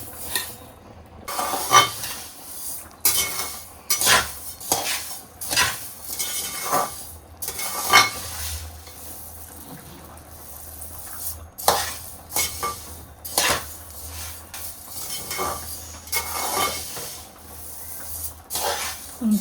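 Coriander seeds dry roasting in a pan for Guntur chili powder, with repeated scraping and stirring clinks of a utensil against the pan over a faint hiss, no voices.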